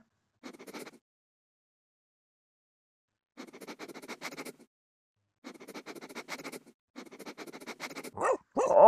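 A dog at an airport in a video game, heard as bursts of panting and scuffling in short repeated groups separated by silence, ending in a louder whimpering yelp.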